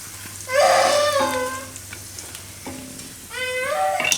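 Mango rice ingredients roasting in ghee in a pan, giving a crisp, close sizzle and frying crackle under a voice, which speaks over it in several short phrases.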